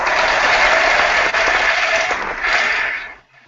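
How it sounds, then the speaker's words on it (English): Dense, steady applause at a comic collectors' talk show, cheering on the moms, sounding like a single uniform burst that runs about three seconds, then cuts off abruptly into silence. "Applause for the moms."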